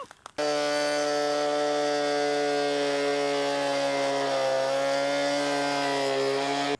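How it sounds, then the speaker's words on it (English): A small oscillating multi-tool buzzes steadily while cutting out a house window opening. After a brief clack at the start, the close, loud, continuous high-pitched drone holds unbroken until the end. "All right, so the little multi-tool worked good."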